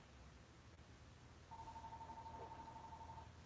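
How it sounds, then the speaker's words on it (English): A home telephone ringing in a quiet house, a thin steady electronic tone that starts partway through and carries on faint and somewhat distant. "Oh, the phone's ringing."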